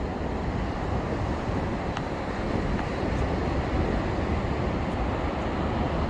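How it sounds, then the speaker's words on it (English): Steady wind blows across a beach on the West Coast Trail, a constant broadband rush with a faint undertone of surf and no voices. "It's a little windy."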